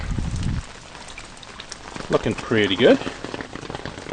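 Steady rain patters on leaves and ground of a vegetable garden with mustard greens and lettuces, while someone speaks briefly in the middle.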